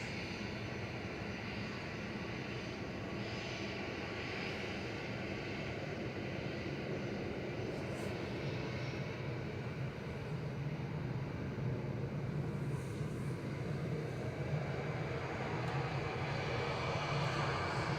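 A jet airliner landing at Manchester Airport, a steady broadband engine roar that holds loud and unbroken for the whole stretch, with no voices over it.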